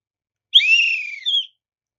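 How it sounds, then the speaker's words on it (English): Referee's whistle blown once at a game, a single shrill, close blast lasting about a second with a brief dip before it ends, heard alone. "The whistle shrilled as he knew that he was going to make his first call of the game."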